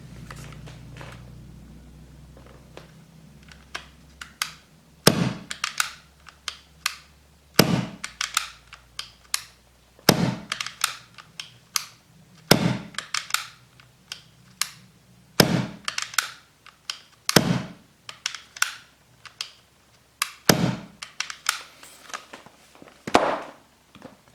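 Tokyo Marui Mk23 suppressed airsoft pistol shots: about nine sharp, muffled cracks fired a couple of seconds apart, with faint mechanical clicks between them.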